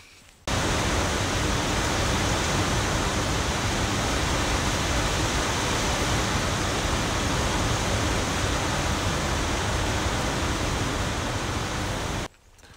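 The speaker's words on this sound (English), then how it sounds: "Insert rain sound clip." Steady, dense rain hiss on an Appalachian Trail morning after a night of heavy rain, a broad unbroken wash running loud and even for the whole stretch with no voices.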